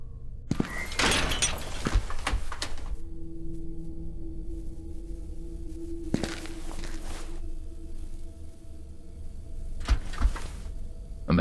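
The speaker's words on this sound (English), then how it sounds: "A metallic sound resonated throughout the menacing tunnel of the damned, yet the door wouldn't open." Metallic clanks and thuds come from a locked door in a horror video game set in an asylum tunnel. There are several loud bursts of rattling separated by a low, humming ambient drone.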